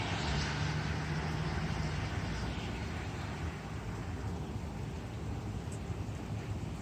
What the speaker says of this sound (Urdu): یہ بارش ہو رہی ہے اور بہت اچھا فیل ہو رہا ہے بارش کی آواز سے